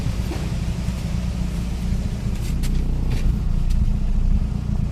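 A car engine idles steadily on a replacement idle solenoid, giving a low, even, continuous rumble close by with a few faint clicks near the end and no talking.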